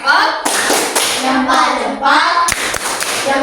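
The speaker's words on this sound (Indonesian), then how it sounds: "Kasih tepuk jempolnya untuk kelompok 2." Rhythmic clapping from a classroom of students giving a group a thumb-clap cheer, a few sharp pattered bursts that repeat steadily, loud and close, with voices mixed in.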